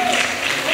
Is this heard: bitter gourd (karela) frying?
no